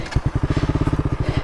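A motorbike stuck on a rocky road, its engine chugging in a steady rapid pulsing beat close by, with rough clattering and scraping as the rear strains against the stones.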